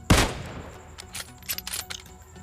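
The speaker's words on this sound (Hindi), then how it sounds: "यहाँ पर आपको कार 98 के कुछ शॉट्स देखने को मिल जाएंगे" Kar98K bolt-action rifle shots in PUBG Mobile: one sharp, loud crack up front, then a scatter of fainter distant gunfire pops and crackles.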